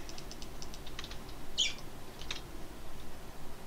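Bird chirps in Minecraft: a few faint, short high tweets spread through the clip, with one slightly louder chirp near the middle, all over a steady low game ambience.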